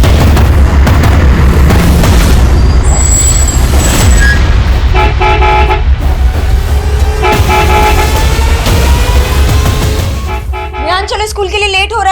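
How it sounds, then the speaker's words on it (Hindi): A school bus horn honks repeatedly outside over a busy street soundscape with loud rumbling traffic, a few sharp toots standing out, while people talk nearby. "बार बार हॉर्न मार रहा है"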